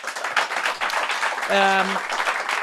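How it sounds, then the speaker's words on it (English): A crowd applauds with dense clapping throughout, while a voice speaks over it and a brief tonal beep sounds midway. "Let's give her a big round of applause."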